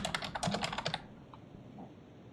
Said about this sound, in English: I might slam my hands on the keyboard really loud